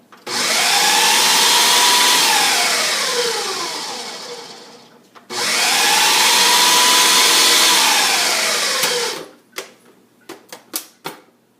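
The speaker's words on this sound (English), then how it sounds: "Turn on the power and we'll blend it." An electric blender running twice, blending a chunky sauce for stuffed pasta shells, with a loud whirring roar that sags in pitch, a brief pause between runs, then several short sharp pulses at the end.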